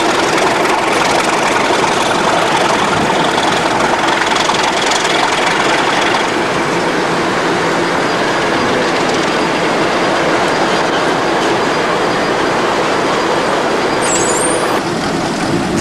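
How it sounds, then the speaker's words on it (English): Two British Rail Class 37 diesel locomotives run round empty wagons at Oakdale Colliery with a loud, continuous engine rumble and rail noise, and a brief high squeal near the end. "The two class 37s on tonight are now running round their empties."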